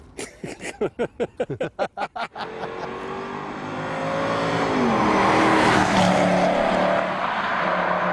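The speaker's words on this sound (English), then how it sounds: "It sounds like a businessman's sports car." A sports car engine revs in a quick series of sharp bursts, then settles into a loud, sustained roar that swells and holds.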